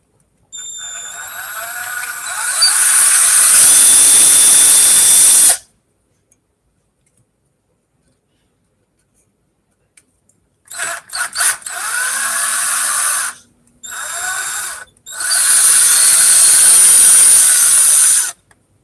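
A power drill removes screws from a seized drivetrain in loud whirring bursts: one long run, then a long silence, then three shorter runs in close succession. The drill sounds close and no one speaks.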